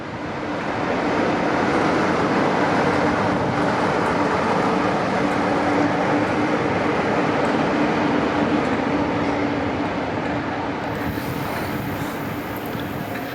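A diesel locomotive moves along its train around Carlisle and Whitehaven, producing a loud, steady rumbling roar with broad rail noise that holds unbroken from start to finish.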